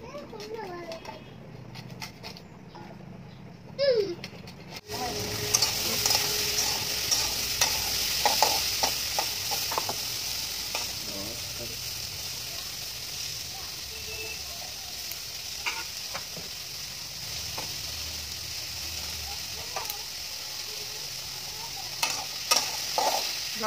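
Homemade paneer frying and sizzling in a hot pan, with a steady loud hiss, stirring clatters scattered throughout, and faint children's voices in the background.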